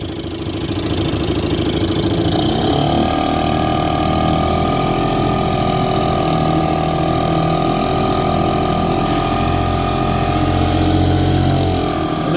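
A 1954 Clinton Model 40 air-cooled outboard motor, a two-stroke running on 16-to-1 non-ethanol fuel mix, drones loudly and steadily on a lake test, close up, with no talking.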